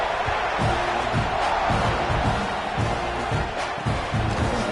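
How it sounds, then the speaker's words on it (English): Football stadium crowd at a college game, a loud steady roar and buzz filling the whole space after a score as the teams line up for the kickoff, with no distinct voices standing out. "this crowd is buzzing after that last score"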